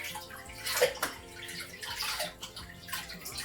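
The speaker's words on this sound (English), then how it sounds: "So I just pour the water over her roots." Water poured over the exposed roots of a potted orchid, an uneven splashing and trickling stream heard close and alone for several seconds.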